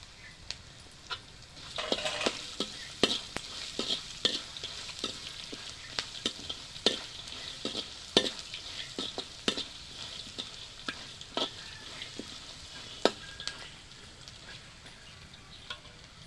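Peanuts fry in oil in a home kitchen while a snack mixture is being made, giving a continuous soft sizzle broken by scattered crackles and pops, close and fairly quiet, with no talking.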